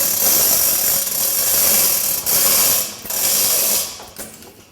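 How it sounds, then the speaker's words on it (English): A ratchet wrench tightens bolts on a vehicle frame during a build, giving a loud, continuous close clicking that pauses briefly a few times. "We could actually put 2 more bolts in there after."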